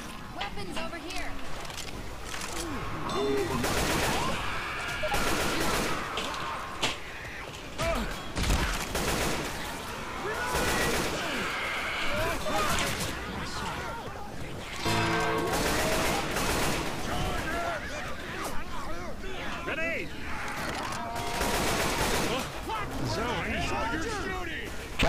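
Gunfire in Left 4 Dead 2 on the No Mercy campaign crackles in repeated bursts throughout, sitting under nearly constant team chatter from several players.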